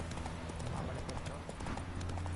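A horse's hooves clip-clop at a steady trotting rhythm in the video game The Witcher 3, with game ambience behind and people talking over it.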